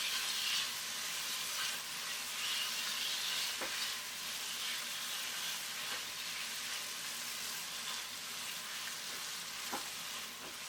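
Chicken pieces fry with ginger garlic paste in hot oil in a pan, giving a steady, close sizzle with occasional soft clinks of stirring throughout.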